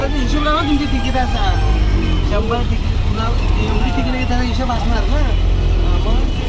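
An auto rickshaw ride from Virar, with a steady engine drone and road rumble throughout and people talking over the noise inside the cabin.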